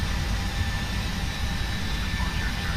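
Airbus A319 jet engine spooling up at start in the Prepar3D flight simulator game, a steady low rumbling roar with a faint high whine, continuous and fairly loud with no talk.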